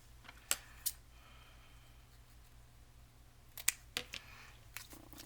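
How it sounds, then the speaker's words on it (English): Scissors snip quietly through paper for a belly band in a hushed room, several short crisp cuts arriving in two small clusters separated by silence. "what I'm going to do is I'm gonna trim it down first"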